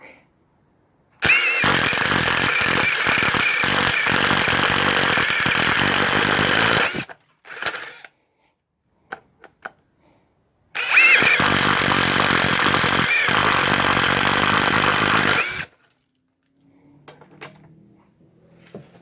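A Porter Cable brushless drill drives a paddle bit in two loud, steady runs of about six and five seconds, separated by a short pause with a few clicks and handling noises.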